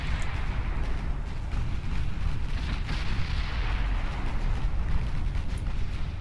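A torpedo strikes a ship in the naval battle game Ultimate Admiral Dreadnoughts, a loud, sustained explosive rumble with crackling bursts over continuous battle noise.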